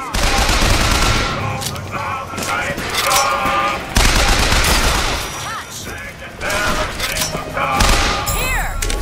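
Dense game gunfire from BioShock Infinite crackles and booms nearly nonstop in bursts across the whole stretch, loud and close, with a voice talking over the shooting.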